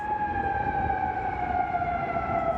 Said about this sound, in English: Sirens blared in Kuwait.